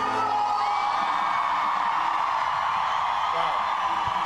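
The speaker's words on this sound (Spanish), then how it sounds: "la gente cantando nuestro tema a capela, todos en un momento" Concert crowd at a sold-out show in Uruguay singing a band's song a cappella and screaming, a dense, continuous wall of massed voices and yells heard from within the audience.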